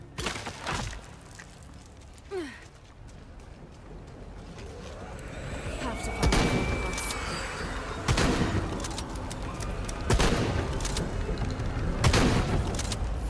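Gunfire in Shadow of the Tomb Raider during a fight with cannibals: sharp shots crack out in irregular bursts, with a loud cluster midway and later, over a low ambient game background.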